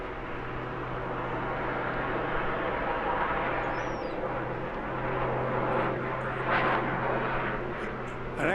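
A propeller aircraft's engine at the English Riviera Airshow hums and drones steadily, rising and falling slightly as the plane holds a hovering maneuver overhead, fairly distant, with crowd and outdoor ambience around it.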